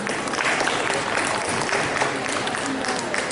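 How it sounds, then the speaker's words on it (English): Audience applause at the close of a talk at a body, mind and psychic expo in Adelaide, a steady dense wash of many hands clapping throughout, fairly loud and even with no pauses. "A round of applause,"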